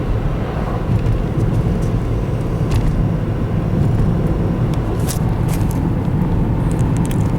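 A car is driven on a snowy road, with steady, loud tire and road rumble and wind noise inside the vehicle, joined by a few short clicks and knocks.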